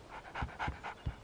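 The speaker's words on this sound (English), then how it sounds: "Yeah, doggy" A dog pants in the video game Alan Wake: three or four quick, close, breathy huffs in an even rhythm, heard on their own.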